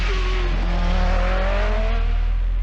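Lancia Delta four-wheel-drive rally car with a mid-rear engine at the 1985 Lombard RAC Rally, a steady loud engine drone with rising revs, heard alone.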